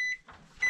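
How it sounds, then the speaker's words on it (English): A kitchen timer in an RV kitchen gives two short electronic beeps, one at the start and one at the end, close and clear. A faint murmur sits between them. "Oh, there's our timer."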